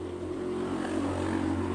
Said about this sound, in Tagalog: maingay ang sasakyan,